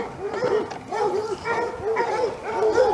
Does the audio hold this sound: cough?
no